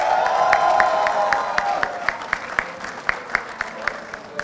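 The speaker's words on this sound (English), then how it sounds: "Give it a big round of applause for everybody again, guys." Applause and cheering from an audience at a university Model UN closing ceremony, a loud sustained crowd of clapping with a dense rhythm that thins toward the end into scattered individual claps.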